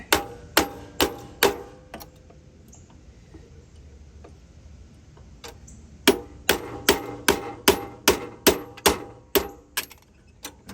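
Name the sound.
hammering roll pin punch to drive out a pin on an Ariens mower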